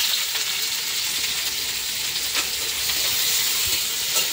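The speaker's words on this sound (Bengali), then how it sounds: "এই যে পেঁয়াজটা দিয়ে দিচ্ছি" Onions fry in hot oil with a loud, even, close-up hiss that runs unbroken, with a few faint ticks of spatter on top.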